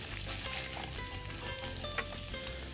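Fish fillet searing in a hot pan as whole butter goes in, a steady dense sizzle and crackle with occasional stirring scrapes, close and continuous with no talking.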